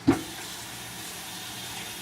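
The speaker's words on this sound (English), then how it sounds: "Just rinse the milk out." A measuring cup rinsed of milk under a running kitchen tap: a brief knock at the start, then a steady, even rush of water that continues throughout.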